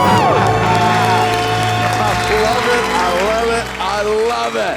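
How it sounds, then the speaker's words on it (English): A couple shouts a loud celebratory debt-free scream, sustained voices whooping together close up, with a small crowd cheering around them. "Let's hear a debt-free scream."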